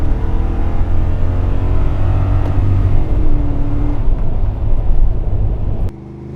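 A first-generation Toyota Sequoia SUV with a Dirty Deeds Industries exhaust, floored in second gear, gives a loud, steady deep drone that rises in pitch as it revs, then cuts off abruptly near the end.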